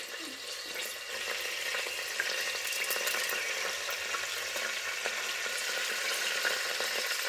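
Bay leaf and peppercorns sizzle steadily in hot oil or ghee for kichidi, a loud, continuous close-up hiss with faint crackles and no talking.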